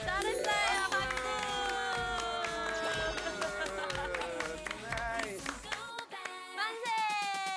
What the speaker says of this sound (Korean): 잘했어요, 박수.